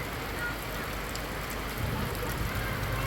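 Heavy rain falls steadily and densely, a continuous loud hiss of drops on surfaces throughout.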